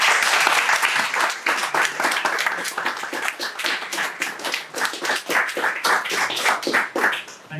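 Audience at the Cotswold Playhouse in Stroud applauds a writer being welcomed to read his winning story, close individual claps forming a lively, uneven round that gradually thins toward the end.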